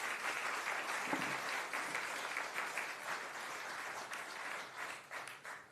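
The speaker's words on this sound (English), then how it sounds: "Let's give one more round of applause to our Chief Master Sergeant Melvin Jenner." Audience applause at a county commissioners meeting in Orange County, a steady, fairly faint round of clapping heard from across the room, continuous and even with no speech over it.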